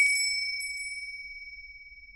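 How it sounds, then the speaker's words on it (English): A small silver sleigh bell gives a bright, clear ring: a few quick jingling strikes at the start, then a single pure tone slowly fading away. "I shook the bell."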